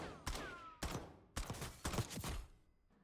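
CR-56 AMAX rifle firing in a video game, several sharp loud gunshots in separate bursts spaced about half a second apart, each with a short ringing tail.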